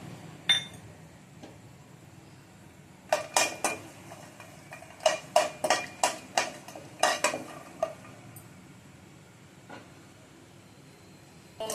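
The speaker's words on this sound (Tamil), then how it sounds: "முதல்ல முந்திரி வறுத்துருங்க" Cashews roasting in a little oil in a kadai, heard as a series of sharp metallic clinks and scrapes of a utensil against the pan, clustered in bursts, over a faint low background hiss.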